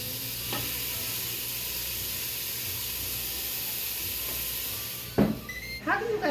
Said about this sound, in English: we're just going to put them on our grill,